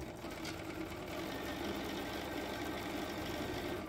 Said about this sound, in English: So I'll sew those up.